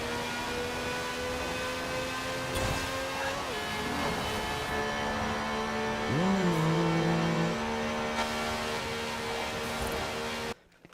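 A 1,200-horsepower Forza Edition Transit Van accelerates in Forza Horizon 4, its engine holding a steady, loud droning tone with a brief swooping rise in pitch midway, then cutting off abruptly at the end.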